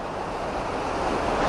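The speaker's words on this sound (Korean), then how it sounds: "협곡 쪽으로 내려갈수록 물소리가 점점 거세집니다." Rushing waterfall water in a canyon at Yellowstone, a loud, continuous roar of heavy falling water, steady and broad throughout, with no voices over it.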